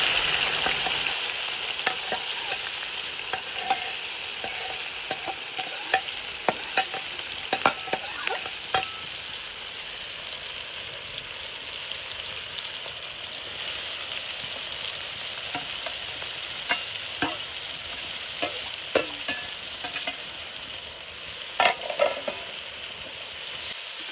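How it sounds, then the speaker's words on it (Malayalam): Chopped onions frying in hot oil for a chicken dish, a steady close sizzle broken by scraping, clinking stirs of a spoon in the pan. "നമ്മൾ കട്ട് ചെയ്ത് വെച്ചേക്കുന്ന സവാള അരിഞ്ഞിട്ട് കൊടുക്കണം"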